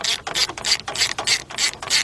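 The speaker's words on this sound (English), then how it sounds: "take your 10mm deep 3/8 drive socket with a 3/8 drive ratchet, put it in the off position" Quick clicking bursts from a 3/8 drive ratchet with a 10mm deep socket loosening a hose clamp on a 1993 Nissan Altima, about eight close, loud, evenly spaced strokes.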